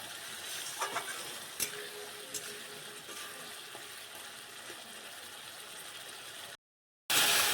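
Spices with chopped tomato and salt sizzle in oil in a pan for a fish curry, a steady frying hiss with a few sharp stirring clacks early on, then a brief drop to silence before the sizzle returns.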